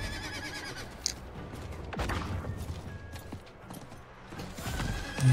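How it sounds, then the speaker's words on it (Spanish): Horse hooves clip-clop and a horse whinnies in the Diablo 4 video game, mixed into busy game sound with a sharp thud near the start and a louder swell at the end. "Caballo."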